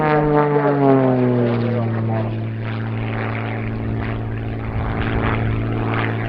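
Rebel 300 aerobatic aircraft's propeller engine droning at an airshow, its pitch sliding downward as the plane passes, then settling into a steady, fairly loud hum with faint announcer talk underneath.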